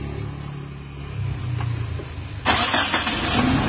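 A Mitsubishi Adventure's engine cranks with a low rumble, then catches and surges into a loud, steady run partway through, heard close up with no voices.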